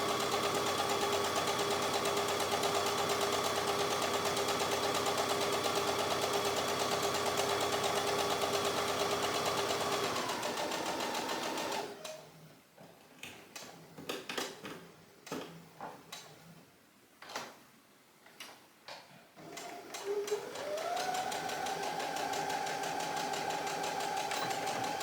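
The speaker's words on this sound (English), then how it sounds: "we are sewing the side that doesn't have the notch in the top." A sewing machine stitches a side seam of a dress in a steady, rapid whirring hum, pauses for several seconds of clicks and fabric handling, then starts up and runs again.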